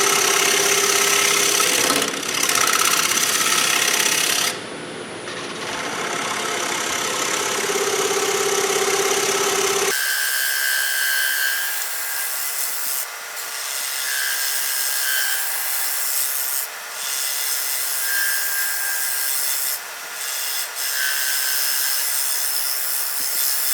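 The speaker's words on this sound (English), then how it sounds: "I'm going to cut this tenon off real fast, hopefully. I'm going to use a 5/8 bolt gouge." A 5/8 bowl gouge cuts the tenon off a black walnut salad bowl with a loud, rough, scraping rush for about ten seconds. After that, a lathe keeps running with a steady, humming idle.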